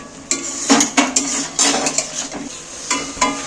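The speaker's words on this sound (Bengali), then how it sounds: "এইবার মশলার সাথে কষিয়ে নেব" Fried potatoes stirred into a spice masala for a village-style Bengali chicken curry, a spatula clanking and scraping against the pan in irregular close strokes over a soft sizzle.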